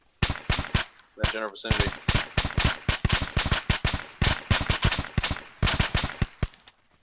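Rapid bursts of suppressing gunfire in the video game Arma 3, sharp close shots repeating in quick, uneven volleys for the whole stretch, with a voice talking briefly near the start.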